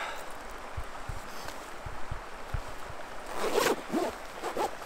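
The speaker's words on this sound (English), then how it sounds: "I'm gonna zip this jacket back up." A jacket zipper is pulled closed in a string of quick, rasping clicks, fairly close, followed by a louder rustle of fabric as the jacket settles, with no talk.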